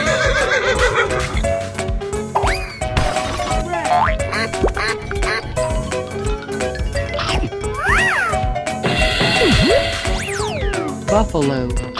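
A cartoonish horse whinnies with rising and falling squeals among bouncy game sound effects and musical tones in an animal-themed escape-room game, with a voice speaking over it.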